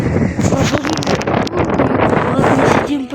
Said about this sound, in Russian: Ветер вообще сумасшедший